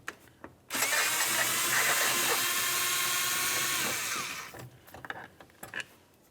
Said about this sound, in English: Use a T27 Torx bit to remove it.